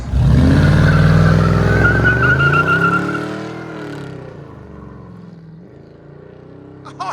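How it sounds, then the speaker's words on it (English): A 1990 Ford Mustang GT with a 5.0 V8 and SLP Loudmouth exhaust with high-flow cats roars loudly during a burnout, then the engine note drops and fades as it pulls away. "Beautiful burnout."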